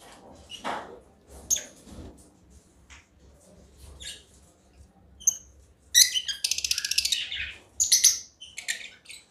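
A caged flock of African lovebirds gives scattered squeaks and chirps, then a louder burst of rapid chattering calls near the end, close by and with no talking.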